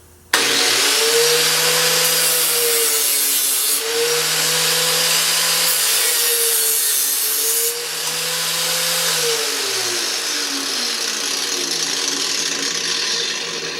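A motorized walnut saw cuts black walnuts with a loud, steady whine, its pitch sagging and recovering in repeated cycles as each nut bites into the blades, running alone without talk.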